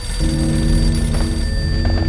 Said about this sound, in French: Téléphone sonne, encore une fois.